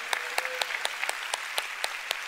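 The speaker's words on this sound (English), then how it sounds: "Go ahead and give the Lord a big hand." A church congregation clapping together in a steady unison rhythm, about nine sharp, evenly spaced claps over a soft background hiss.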